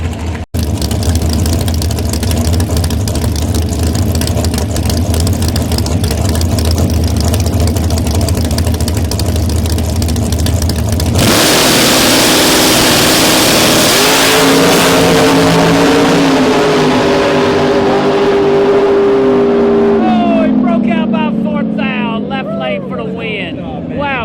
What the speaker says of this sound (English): 447 far lane, 467 for Colby in the green bar machine.